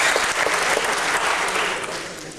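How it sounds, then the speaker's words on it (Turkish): Strong, dense applause from a concert audience at a Van folk song concert, a loud continuous roar of many hands with no gaps that eases slightly toward the end. "Lütfen biraz kuvvetli alkışlayın"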